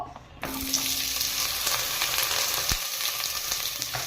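Onions frying in oil in Healux cookware for mutton donne biryani, a steady loud sizzle that starts abruptly after a brief quiet moment and continues throughout, with a few small stirring knocks.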